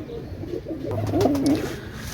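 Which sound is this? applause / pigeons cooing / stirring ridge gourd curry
pigeons cooing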